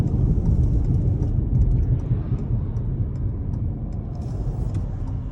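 A car passes nearby on the road outside a 2022 Toyota C-HR, a steady low rumble of engine and tires that swells slightly and then eases off, with no talking.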